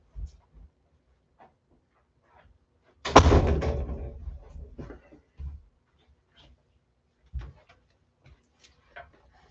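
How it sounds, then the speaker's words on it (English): An indoor door swings shut with one close, solid thud and a short rattle that fades, surrounded by near silence and a few soft scattered clicks and knocks. "Sorry, I need to close the door."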